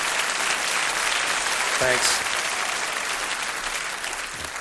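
A comedy club audience applauds steadily throughout, a dense wash of clapping that fades slightly toward the end, with a brief spoken word from the performer partway through.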